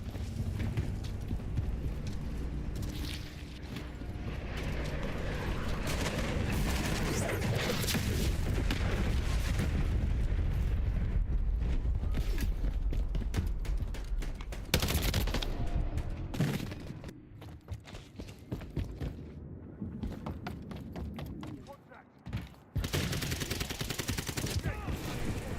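Heavy gunfire in Call of Duty Modern Warfare III multiplayer, with sustained automatic bursts and single shots, loud and dense over the full stretch, with voices talking at times.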